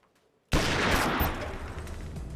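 A sudden loud burst of gunfire from the post-apocalyptic game Wasteland 2 erupts after a brief silence, a dense, crackling blast with a fading rumble.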